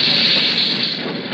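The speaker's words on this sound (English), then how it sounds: "The train's beginning to stop." Radio drama sound effect of a train slowing to a stop, a steady loud rumble and hiss of the railroad cars filling the whole stretch without a break, easing slightly toward the end.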